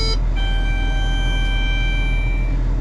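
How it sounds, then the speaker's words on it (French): A seed-drill monitor screen in a tractor cab, switching on during rapeseed sowing, gives a steady electronic startup beep of about two seconds. It sounds over a constant low engine rumble from the cab. "le bip c'est l'écran qui vient de s'initialiser"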